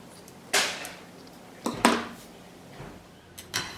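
Fabric is cut for a homemade sewn roti basket: a handful of sharp, close snips spaced irregularly, with short quiet gaps between them.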